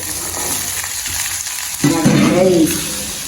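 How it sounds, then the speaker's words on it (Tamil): Eggplant pieces fry and sizzle in hot oil in a pan, a steady crackling hiss that grows louder partway through as the contents are stirred, with no voices. "கத்திரிக்காய் வதங்கிட்டது இங்கே நல்லா பொரிஞ்சு வந்துட்டு"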